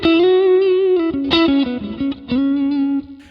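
Electric guitar on the neck pickup plays through a Deluxe Reverb amp capture, a few sustained, reverberant, mid-focused notes and slides, loud and alone.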